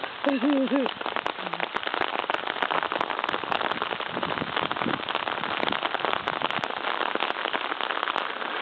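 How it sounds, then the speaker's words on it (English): Steady rain falls throughout, a dense continuous hiss of drops with scattered sharper patters, while a brief voice-like sound rises near the start. "Stupid rain."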